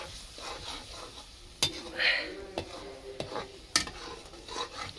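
A spoon stirs crab fry gravy in a pan: soft scraping and clinks of utensil against metal, with a few sharp taps spaced through the clip over a faint sizzle, close and fairly quiet.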